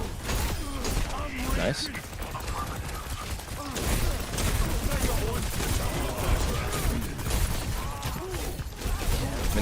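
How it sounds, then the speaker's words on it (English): Pharah's rocket barrage ultimate in Overwatch, a rapid rattling volley of rocket blasts and explosions firing in continuous bursts, with a player talking over the game sounds. "Rocket barrage incoming."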